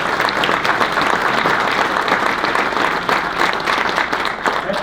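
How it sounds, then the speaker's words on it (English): A room full of people claps steadily at a university athletics building dedication, a dense, continuous burst of applause that holds at an even level throughout. "give them a round of applause for their loyalty and service to Wake Forest and generosity"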